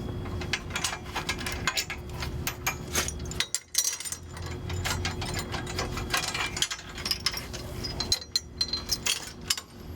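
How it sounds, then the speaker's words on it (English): A ratchet on a tow vehicle hitch is worked to shorten it, giving repeated close metallic clicking and ratcheting in uneven bursts with brief pauses. No speech is heard. "you can just ratchet it up. It'll bring it back into the correct length you need."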